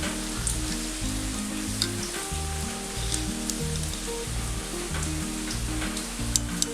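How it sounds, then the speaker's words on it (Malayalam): Beef cutlets sizzle in a pan of hot oil in a Kerala kitchen, giving a steady crackle with scattered pops and light stirring scrapes over quiet background music. "കട്ട്ലേറ്റ് എണ്ണയിലേക്ക് ഇട്ട് കഴിഞ്ഞാൽ പെട്ടെന്ന് തന്നെ ഫ്രൈ ആവട്ടെ."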